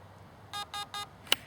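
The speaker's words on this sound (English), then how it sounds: "So all I do is hold it down and wait for the beep again." A burst-fire MOSFET in an airsoft gun beeps while being programmed: three short, quiet electronic tones in even rhythm, then one sharper, higher chirp.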